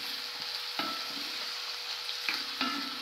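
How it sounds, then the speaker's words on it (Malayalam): Ginger and garlic frying in a pan, with a steady sizzle broken by a few sharp scrapes of a spoon as they are stirred. No one speaks. "ഇഞ്ചി, വെളുത്തുള്ളി നല്ലപോലെ ഇളക്കി കൊടുക്കാം"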